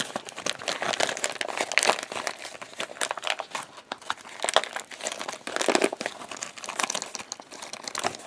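Fabric made from fused plastic packaging trash crinkles and rustles loudly and continuously as it is turned right side out through a zipper opening, in irregular close bursts of crackling, with no talk.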